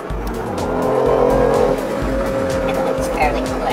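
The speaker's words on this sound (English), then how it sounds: "I've had it in internal combustion engine mode the whole time, and it's fairly quiet except when you step on it in sports mode" A 2014 BMW i8 in combustion-engine sport mode pulls hard, its engine droning loud and steady with a rising tonal whine, heard close from inside the car.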